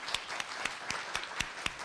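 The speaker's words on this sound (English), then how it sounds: "Let's give a round of applause to this panel" Audience applause for a panel at a state senate hearing on the BRAIN Initiative, a quiet, sparse patter of claps with a few distinct sharper claps standing out.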